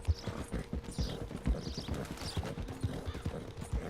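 Steady clip-clop of horse hooves at a walking pace in the video game Red Dead Redemption 2, fairly close, with a soft background hum and no talking.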